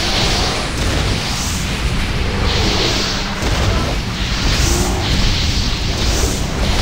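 Loud, dense rumbling blasts with bursts of noise, one rolling into the next across the whole stretch, game explosions going off close by in World of Warcraft's Slag Mines.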